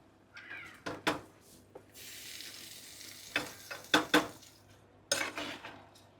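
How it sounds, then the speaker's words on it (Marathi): Cooked mutton tipped into a pan of thick masala and stirred for black mutton, with clinks and scrapes of a spoon against the pan over a soft sizzle, in quiet, close bursts. "आता याच्यामध्ये आपण मटण टाकतोय।"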